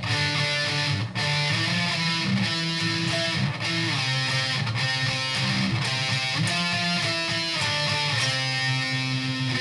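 A slide riff on a distorted electric guitar from a song, played in full with band accompaniment, continuous and loud, with repeated sliding phrases and no talking.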